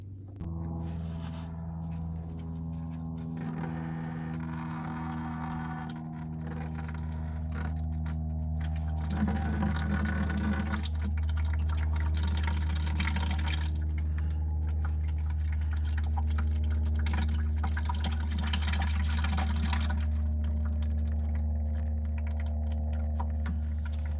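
Coolant draining from the radiator of a fourth-generation Pontiac Trans Am F-body with an LT1 engine, a steady pouring trickle over a constant low hum, continuous and moderately close with no voices.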